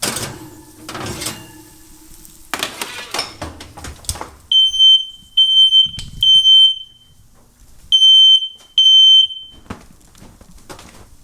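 A smoke alarm chirps in shrill, repeated beeps, several short bursts in two clusters, loud and close, after some clattering household noise.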